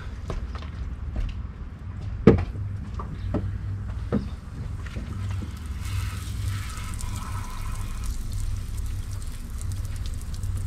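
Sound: hose water rinsing aluminum intake plenum

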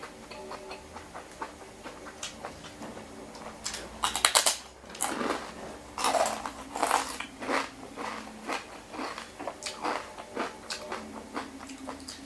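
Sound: eating noodles

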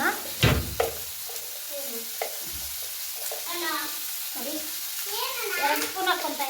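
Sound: frying in a pan

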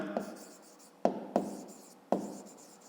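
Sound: writing by hand

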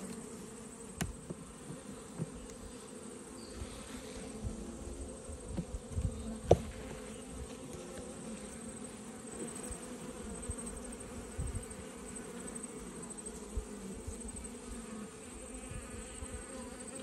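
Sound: honeybees buzzing around an opened hive

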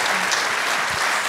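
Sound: applause for Eva and Wil

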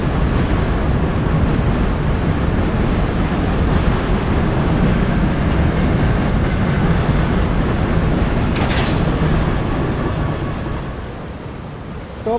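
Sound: WAP4 locomotive train in video game Train Simulator Classic

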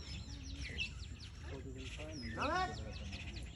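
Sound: many birds chirping

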